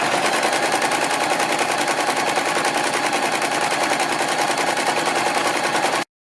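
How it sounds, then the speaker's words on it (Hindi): A sewing machine runs a line of stitches along a folded buckram strip, giving a loud, steady, fast mechanical rattle that continues without pause for several seconds before stopping abruptly. "बीच में से फोल्ड करने के बाद हम इसके ऊपर सिलाई लगाते हैं,"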